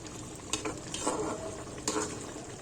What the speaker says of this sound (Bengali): এই যে মাছটা বলকাচ্ছে সেটার কারণ হলো গিয়ে চুলার তাপ।